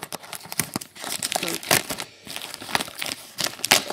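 A box of Magic: The Gathering Terre Natale booster packs being opened, with close, loud crinkling and tearing of plastic wrapper in rapid irregular bursts throughout, and a voice speaking over it.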